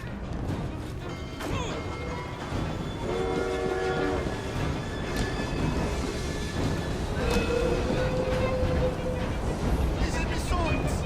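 Moving train in the video game Assassin's Creed Syndicate: continuous loud rolling rail clatter with horn blasts sounding partway through and a crash-like hit, heard alone without talk.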